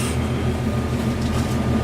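Steady low rumble and rattle from inside a moving passenger train, a continuous drone with no talk.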